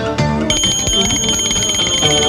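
A pocket bell pager beeps and chirps in a bright electronic pattern, loud and continuous over a busy background.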